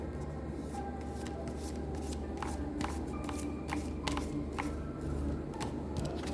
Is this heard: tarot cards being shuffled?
yes